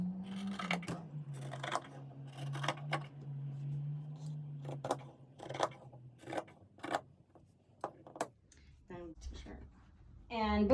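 Scissors snip repeatedly in short, crisp cuts at close range, the crunching strokes coming in an uneven rhythm, with some clicks and rustles between.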